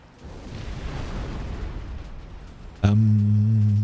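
Bombs from a bomber strike in the Supreme Commander strategy game: a rolling, rumbling explosive wash builds for a few seconds before a sudden loud blast with a sustained low droning tone.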